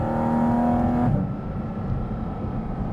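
A Porsche GT4 RS with a mid-mounted engine revs with a rising howl and then drops sharply after about a second, settling into a lower throaty drone heard from inside the cabin.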